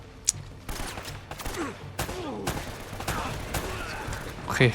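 Gunfire in the video game Uncharted: Drake's Fortune, a few sharp shots and bursts scattered across the moment, moderately loud amid background game sound.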